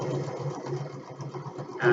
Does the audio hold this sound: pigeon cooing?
no